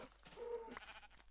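A cow in a video game gives a short, soft moo-like bleat in one burst, fairly quiet against faint game background, with no talk.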